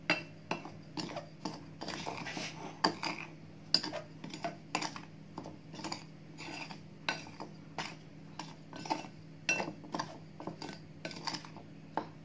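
Utensils stir a tapioca pearl mixture in a bowl, giving a steady run of soft, close clinks and scrapes at an even rhythm, quiet with no talking.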